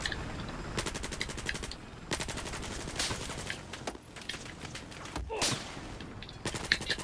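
Battlefield gunfire: repeated rapid bursts of automatic weapon fire, crackling shots in quick rhythmic strings separated by short pauses, moderately distant and fairly loud, with no voices.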